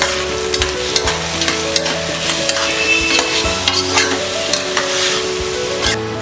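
Coriander being stirred into broken wheat khichdi in a hot pan, loud close sizzling with repeated spoon scrapes and taps against the vessel.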